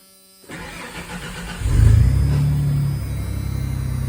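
A 1992 Ford F-150 pickup engine with almost 180,000 miles, a little tired, cranks briefly, catches and settles into a steady, slightly uneven idle, loud and close.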